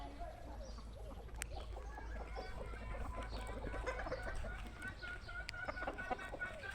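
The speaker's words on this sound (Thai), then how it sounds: "อยู่ฟาร์มเพิ่นนะครับฟาร์มไก่ฟาร์มไก่ชน" Fighting cocks clucking at a farm, with repeated clucks and short calls, one brief crow-like cry, and scattered bird noise, moderately near, with a voice talking faintly in the background.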